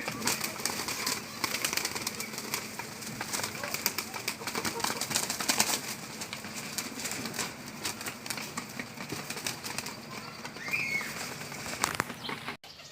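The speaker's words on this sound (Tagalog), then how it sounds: "So ito na nga guys yung kalapati" Pigeons coo softly with bursts of wing flapping and fluttering in a loft while a person talks over them, with clicks and rustling throughout.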